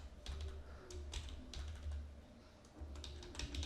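Steady typing on a computer keyboard during a Bangla tutorial on designing a clean login form, with quick irregular clusters of soft key clicks, fairly close and alone, with no talk over it.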